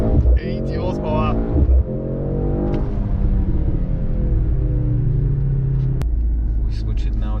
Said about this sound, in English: we're talking about the M139 4-cylinder engine here